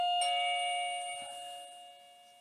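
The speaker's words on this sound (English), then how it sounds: "So here it's the doorbell." A wireless doorbell gives one clear electronic chime that rings out and slowly decays in a quiet room.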